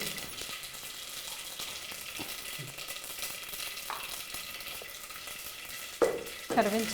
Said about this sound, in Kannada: ಒಂದು ಚಮಚದಷ್ಟು ಸಾಸಿವೆ ಸಾಸಿವೆ ಅರ್ಧ ಸಿಡಿದಾಗ ಜೀರಿಗೆ